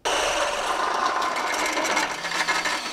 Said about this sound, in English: So there's 100 ways to drill a 3/4 hole.